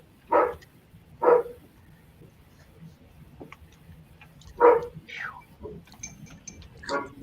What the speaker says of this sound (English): That's my dog outside.